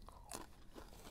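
Biting into fried, battered soul food at a restaurant in Newark makes one sharp, crisp crunch followed by softer chewing, faint and close.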